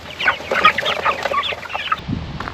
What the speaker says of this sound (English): These broiler chicks are sure growing.